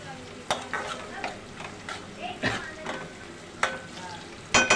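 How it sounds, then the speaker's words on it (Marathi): Onion, tomato, garlic and cumin fry in a pan under a soft sizzle, punctuated by sharp, irregular stirring scrapes and clanks of a spoon against the metal, close up and without speech. "कांदा टोमॅटो लसूण जिरं मोहे हे सर्व चांगलं फ्राय झालेलं आहे"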